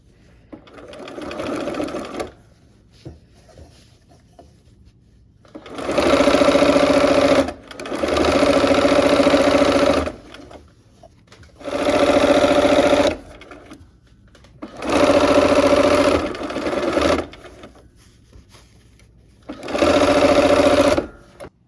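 A sewing machine stitches a quilt border in five loud, close bursts of rapid running, each lasting one to three seconds, separated by short pauses where the work is repositioned.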